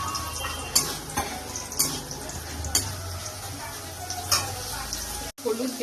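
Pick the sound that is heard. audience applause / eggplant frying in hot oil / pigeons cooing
eggplant frying in hot oil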